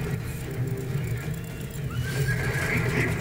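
A horse mount in the video game Paladins neighs once, a rising whinny heard over constant rumbling in-game noise and hoofbeats.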